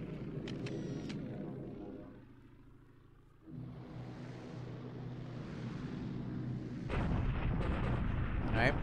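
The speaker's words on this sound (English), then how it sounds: "He's bombing us here." Artillery-like explosions and gunfire from a bombing raid in the War in the Pacific strategy game, a string of heavy rumbling blasts that dip briefly, then return louder and denser near the end.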